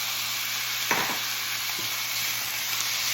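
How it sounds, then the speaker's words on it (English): Peppers stir-fry in a hot pan alongside chicken for pad thai, giving a constant bright sizzle and hiss. A quick stirring scrape comes early and a softer one follows, with no talking. "Okay, so we're just getting this fried up."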